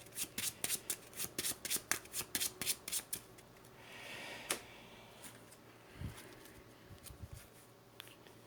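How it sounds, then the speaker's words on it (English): A Marvel Champions card deck shuffled with a rapid run of crisp, evenly spaced riffling clicks, followed by a softer rustle and a few scattered taps, close and fairly quiet with no talk. "shuffle my deck"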